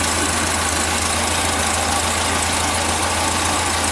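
A 1974 VW Super Beetle's swapped air-cooled engine runs steadily on bad gas, a loud, close, even idle with a constant low throb and rattly clatter, no voices.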